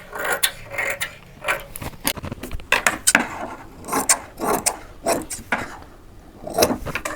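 A sewing machine stitches a seam joining blouse cloth, giving a run of close, mechanical clicking and whirring bursts with brief pauses between them, near and fairly loud with no voices.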